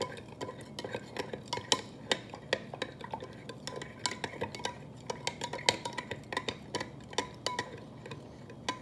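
A spoon stirs a substance dissolving in water inside a glass, giving a steady run of light clinks and scrapes, close and moderately soft, with no talking.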